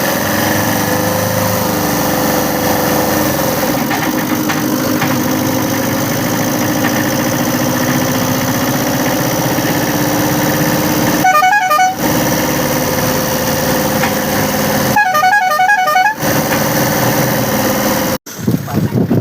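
A motorcycle engine idles and revs steadily while a boy learns to ride, with two short horn blasts near the middle and end cutting in over the continuous motor.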